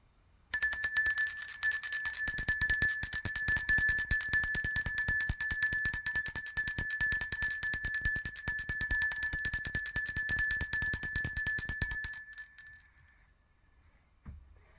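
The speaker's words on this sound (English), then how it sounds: "Let's ring the bell." A bright metal bell rings rapidly and continuously for about twelve seconds, a steady shimmering trill that then fades out, with no talking over it.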